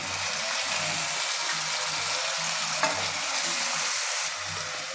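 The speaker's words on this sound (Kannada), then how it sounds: "ಎರಡು ಟೊಮೆಟೊ ಹಣ್ಣನ್ನು ಕಟ್ ಮಾಡಿಟ್ಟಿದ್ದೀನಿ ಸಣ್ಣದಾಗಿ ಅದನ್ನು ಸೇರಿಸ್ತಾ ಇದ್ದೀನಿ ಈಗ" Chopped tomatoes are added to a hot frying pan for a potato and field bean kurma, giving a dense, continuous sizzle with soft stirring scrapes and a brief clink, close and steady with no talking.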